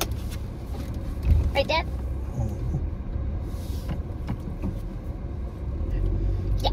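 A van driving along, heard from inside the cabin as a steady low road rumble and engine drone, with people talking over it throughout.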